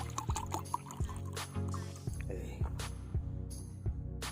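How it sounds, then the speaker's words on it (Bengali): Stored rainwater trickles into lemon juice in a small container while mixing electrolyte to revive a dry cell motorcycle battery, giving close, intermittent pours and drips with soft knocks. "আমরা এটার ভিতরে অল্প কতটুকু বৃষ্টির পানি দিয়ে দিচ্ছি।"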